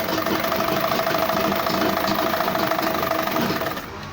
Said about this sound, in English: I will sew from here down